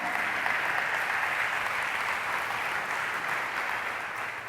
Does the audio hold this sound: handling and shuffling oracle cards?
no